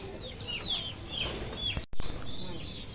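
An Aseel rooster perched up on a rooftop at night calls out in short, high, repeated bursts over a steady background hum, with a brief dropout partway through.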